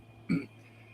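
A single short throat clear, a brief low rasp over a quiet background hum.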